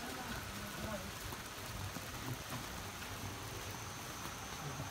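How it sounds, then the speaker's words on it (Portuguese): Steady hiss of rain falling in the Amazon, a dense even patter with faint low rumbles underneath. "E chuva na Amazônia, Lucas."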